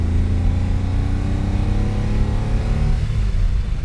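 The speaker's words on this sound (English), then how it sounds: "Let's get on to the farm road. Go through the gears." A 1967 Ferrari 330 GT 2+2 Series II engine pulls hard on a farm road as it climbs through the gears, a loud, steady, close-up mechanical roar with no one speaking.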